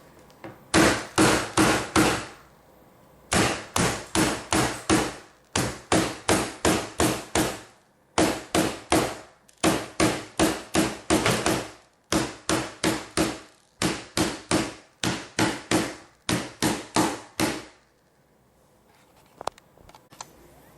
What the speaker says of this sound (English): we're going to take our hammer and just hammer them down